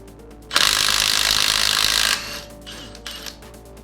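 A Milwaukee M18 FUEL Gen-3 compact 1/2-inch impact wrench with friction ring hammers at a nut to loosen it. One loud, harsh burst lasts about a second and a half, followed by a few faint clicks.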